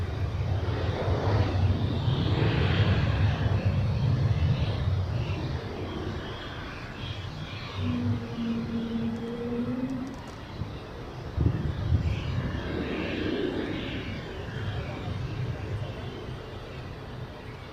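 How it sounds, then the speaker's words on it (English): Passenger jet taking off from Zurich Airport, bound for southern Turkey, a loud sustained engine roar that slowly fades as the aircraft moves away, with a voice talking over it. "Takeoff, off to southern Turkey."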